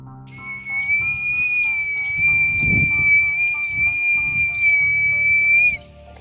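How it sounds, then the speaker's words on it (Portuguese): A long, loud, sustained whistle holds one high pitch for several seconds over low rumbling background noise. "Outro assobio, mais alto e mais forte"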